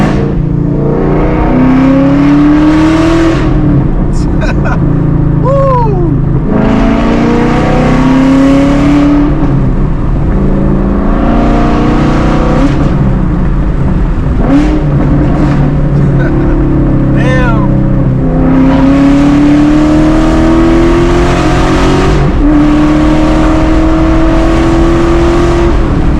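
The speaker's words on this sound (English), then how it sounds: "Sound like I have a full exhaust on this car" A car fitted with American Racing 1-7/8 inch long tube headers revs hard and accelerates in repeated loud pulls, the engine note climbing and dropping between bursts, with a voice talking between revs.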